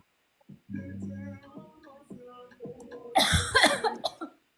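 A person coughs in a harsh burst after some quiet muffled sounds, close to the microphone.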